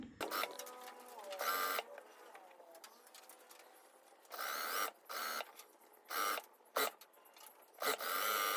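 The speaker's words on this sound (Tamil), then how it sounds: "அதுக்காக அரை இஞ்சியில் இப்படி ஒரு தையல் போட போகிறேன்" A sewing machine stitching a half-inch seam on an A-line frock runs in several short, loud mechanical bursts up close, broken by brief pauses, with a voice talking quietly between them.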